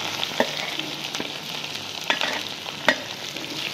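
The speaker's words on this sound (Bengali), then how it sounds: "পেঁয়াজগুলো হালকা ভেজে নেব, বেশি ভাজবো না" Chopped onions fry and sizzle in a hot pan with ginger, garlic and green chillies for paneer chilli, a steady hiss broken by a few sharp clatters of stirring, close and fairly loud with no talk.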